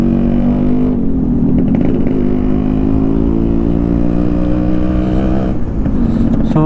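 Engines of motorcycles and cars idle and rev in a traffic jam at a toll gate, a dense, loud, continuous drone with rising and falling throttle, close by.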